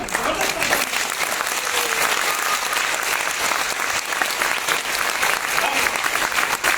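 An audience at a Modicare business presentation claps steadily and loudly for several seconds, a dense, continuous patter of hands.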